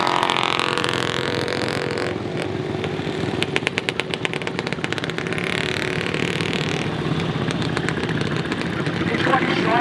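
A vintage motorbike ridden by its owner passes at a steam rally, a steady engine note with a rapid ticking exhaust patter mid-pass, under continuous commentary and crowd noise.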